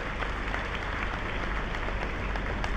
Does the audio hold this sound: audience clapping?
yes